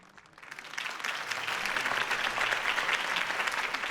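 A crowd in Batman: The Telltale Series breaks into applause after a campaign speech, starting thin and swelling to steady, dense clapping.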